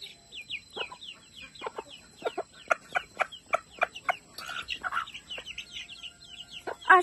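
A young rooster and hens cluck in a quick, uneven series of short calls, close and fairly loud, with softer chirps and a louder call at the end.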